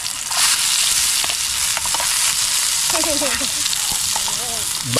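Garlic sizzles and fries in a pan at a camping cookout, with loud steady crackling, occasional stirring scrapes and faint background chirps, and no speech.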